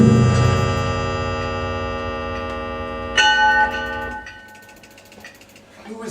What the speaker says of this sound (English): Who is ringing the bell at this hour?